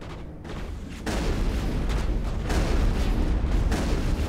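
Grenade blasts in the Mass Effect 1 video game: a broad, rumbling burst of booming noise that jumps louder after the first second and stays dense and heavy, with no talk over it.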